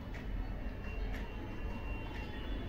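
A steady low rumble and rattle fill the inside of a moving train carriage, with faint metallic clinks now and then.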